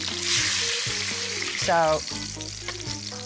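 Sea bream fillet frying skin-side down in a hot pan makes a loud, continuous crackling sizzle up close, with a brief scrape partway through and a short spoken word near the start.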